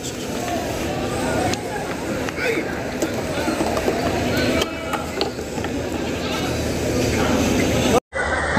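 Goats bleating amid a busy livestock market crowd ahead of Bakra Eid at Deonar in Mumbai, calls rising over constant chatter and bustle, with people talking throughout.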